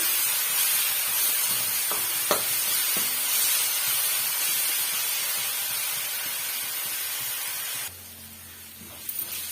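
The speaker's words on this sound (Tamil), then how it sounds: "சேர்த்துட்டு நல்லா வதக்கி விட்டுக்கலாங்க அந்த பச்சை வர போகிற வரைக்கும்" A paste of onion, garlic and curry leaves sautéing in a pan, a loud, dense, continuous hissing sizzle close up, with a few clinks of stirring before it suddenly drops to a quieter sizzle near the end.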